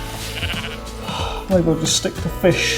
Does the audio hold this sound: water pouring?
no